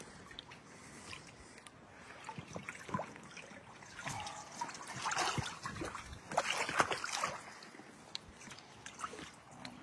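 Water trickles and splashes at a blind mink trap set along a stream edge while the water level is adjusted by hand, with irregular close sloshing and dribbling that swells midway, and no talk.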